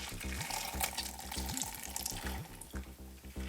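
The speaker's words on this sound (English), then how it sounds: "what I like to do then is to squeeze them and let the water come out." Water splashes and trickles as it is squeezed by hand out of cooked shiitake, baby bella and gray oyster mushrooms, a wet, sputtering sound over a tonal background.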